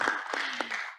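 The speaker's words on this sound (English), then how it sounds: "Let's give her a round of applause." Brief applause from a conference audience at a Southeast Asian parliamentary assembly, a dense wash of hand claps with a few stronger claps standing out, fading within a second.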